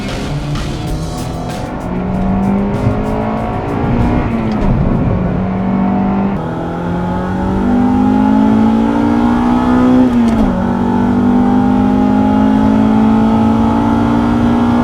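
A 1995 Acura Integra GS-R engine screams at high RPM on a road drive, its loud, close note climbing and holding steady through long pulls with a brief dip between, no talking.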